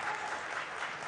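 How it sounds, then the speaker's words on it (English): Audience in a debate hall breaks into steady applause, a dense wash of clapping heard throughout at moderate distance. "who applauded will be removed from the hall"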